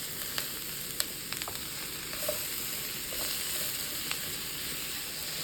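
Chopped vegetables fry in a pan for a vegetable meatball sauté, a steady close sizzle running throughout with a few sharp clicks and scrapes of stirring.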